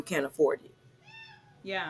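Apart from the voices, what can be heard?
cat meowing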